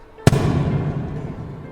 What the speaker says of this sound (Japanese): それから3発、ドーン、ドーン、ドーンってね。